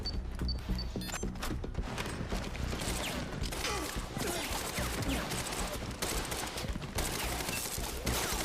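Dense, chaotic gunfire in the Quantum Break video game tears through an office, with rapid overlapping shots, debris and mechanical clatter, loud and sustained with brief voices mixed in.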